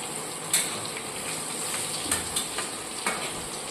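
Pointed gourds frying in a pan: a continuous soft sizzle with a few brief clatters as the pieces are turned, no talking.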